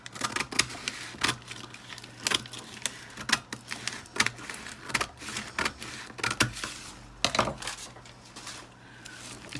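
Wrapping paper being handled around an open-face gift box, with repeated crisp crinkles, snips and taps in an irregular close-up rhythm and no talking.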